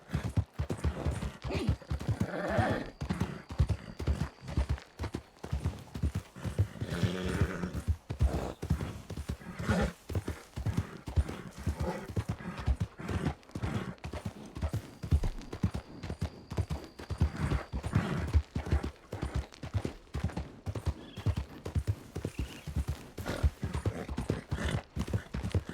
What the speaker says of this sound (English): My horse is gassed.